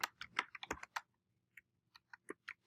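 Fingers type on a computer keyboard in short bursts of crisp clicks: a dense flurry at first, then sparse, isolated key taps after a brief pause, close and fairly quiet.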